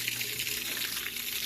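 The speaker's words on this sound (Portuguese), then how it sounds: "jogando água para fora" A washing machine drains water out during its spin cycle, a steady rushing gush of water running continuously and close by.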